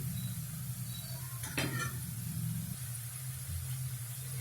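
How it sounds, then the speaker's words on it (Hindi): Litti, round baked wheat dough balls, frying in a pan with a steady low sizzle and bubbling, with a brief clatter of stirring or turning near the middle. "जब तक ये लिट्टी फ्राई हो रही है"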